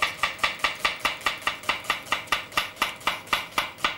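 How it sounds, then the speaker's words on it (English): Knife slicing straight down through an onion on a board, a fast, steady run of sharp chops, about four per second, close and crisp with no talking. "get your knife and just slice straight down"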